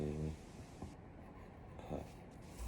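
A hand writing a word in a spelling lesson, a few short, soft scratchy strokes at close range, quiet, with a faint voice in the room.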